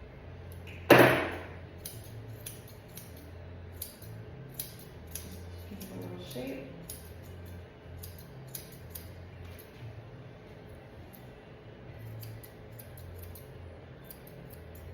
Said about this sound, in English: I usually just go down with my scissors